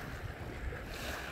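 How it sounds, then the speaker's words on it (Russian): A slightly rough sea with light waves at Arkhipo-Osipovka, heard as a steady, close wash of surf mixed with wind rumble across the whole short stretch, with no voices. "сегодня немножко море волнуется"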